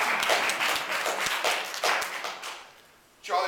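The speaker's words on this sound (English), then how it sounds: "You clap, it's all right." A meeting audience gives scattered clapping during a mayoral campaign speech, with uneven bursts of hands that thin out and fade to near silence before a brief final swell.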